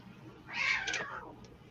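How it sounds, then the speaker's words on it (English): A cat yowls outside a window in a residential neighbourhood: one loud, drawn-out wail that swells and falls over about a second, heard alone against a quiet background. "the cats in my neighborhood outside my window"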